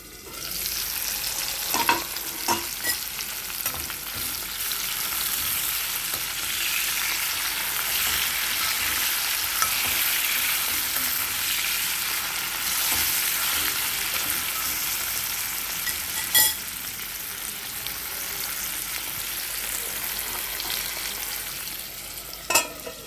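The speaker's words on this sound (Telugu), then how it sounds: "పెట్టి వేయించుకోవాలన్నమాట. మధ్య మధ్యలో తిప్పుతూ ఉండండి." Ivy gourd masala curry frying in a pan, a steady close sizzle broken by occasional scrapes and clinks as it is stirred now and then, with no talking.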